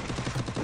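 Video game gunfire cracks out in a quick burst of repeated shots, fairly loud and close, with a rapid, uneven rhythm across the short moment.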